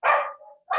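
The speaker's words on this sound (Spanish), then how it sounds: "están ladrando mucho los perros" Dogs barking close by, a loud yelp followed by a trailing whine, then another bark starting at the end, with no voices.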